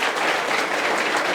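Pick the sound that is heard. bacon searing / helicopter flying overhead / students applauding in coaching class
students applauding in coaching class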